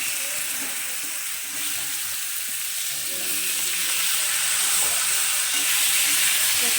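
Cut raw green banana and potato hit hot oil over fried garlic in a pan, giving a steady close sizzle that builds and thickens toward the end, with stirring scrapes underneath.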